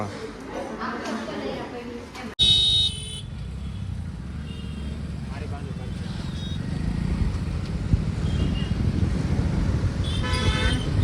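Car horns honk at a busy traffic signal, with a sharp blast early and another near the end over steady engine and road noise, while people talk nearby.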